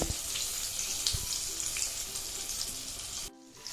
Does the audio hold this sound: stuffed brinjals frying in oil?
yes